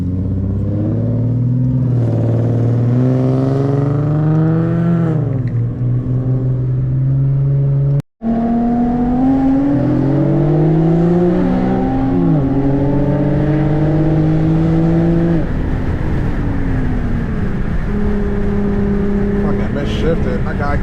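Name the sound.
Infiniti car driving and shifting gears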